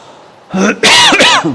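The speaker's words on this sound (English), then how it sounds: "That's that sneeze trying to come out as a cough now." A close, loud throaty cough that starts with a short voiced catch and breaks into a harsh, sneeze-like burst, heard alone.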